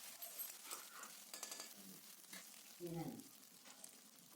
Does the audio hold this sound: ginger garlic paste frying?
yes